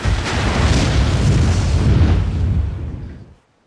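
A loud, rumbling helicopter crash explosion with a broad roar that sustains for about three seconds, then quickly fades to silence.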